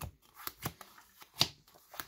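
Magic: The Gathering cards are shuffled by hand, with several quick riffling and tapping bursts at uneven intervals, close and fairly crisp, without speech.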